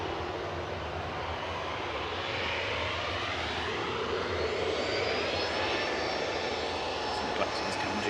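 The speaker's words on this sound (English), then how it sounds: "So this is Ryanair off to Alicante." A Ryanair airliner bound for Alicante roars on departure, a steady, fairly distant jet engine rumble with a rising whine held throughout.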